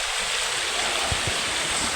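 Water flowing along a riverside stream, a steady broadband rush close by with a few low thumps and no talk.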